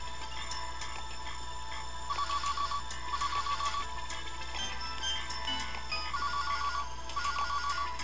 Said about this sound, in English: Wow, my phone's ringing off the hook.